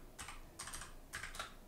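Keys clack on a computer keyboard as a command is typed, in a few quick bursts of taps with short pauses between, close and fairly quiet with no talking.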